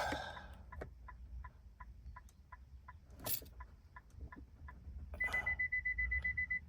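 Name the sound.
2017 Infiniti Q50 buzzer beeping, key programming complete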